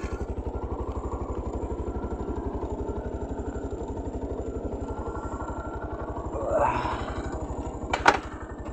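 A rider's motorcycle on a solo ride out from a village home runs with a steady, close, pulsing engine throb and a few brief clatters near the end.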